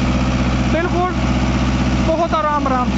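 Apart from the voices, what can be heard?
Mahindra Novo 655 tractor engine running rotavator at creeper speed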